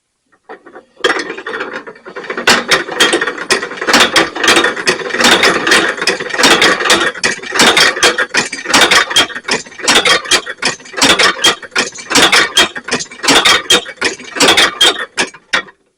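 An inertial demonstration machine with heavy masses runs up to speed, producing a loud, continuous mechanical clatter of gears and ratcheting clicks with rhythmic pulsing that persists for most of the run.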